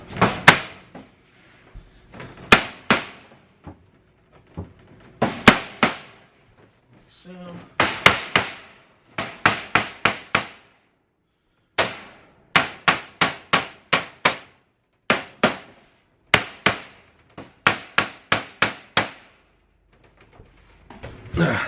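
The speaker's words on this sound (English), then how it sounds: "Then you hammer" Hammering while assembling a 4x2x2 Dubia roach enclosure, sharp sharp wooden knocks in irregular clusters of two to four blows with short pauses, loud and close, and occasional brief talk between them.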